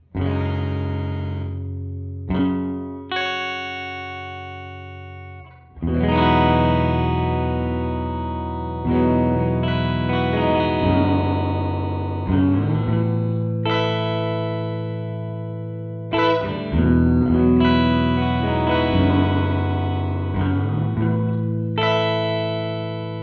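Electric guitar chords ring out through a Red Panda pitch-shifting pedal, each note trailed by cascading higher harmonies stacked in fifths, shimmering and sustained.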